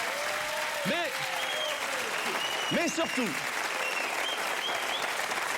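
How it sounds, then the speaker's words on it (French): A French TV studio audience claps steadily in the background while someone speaks over it, the applause forming a continuous wash beneath his voice. "on peut l'applaudir, s'il vous plaît"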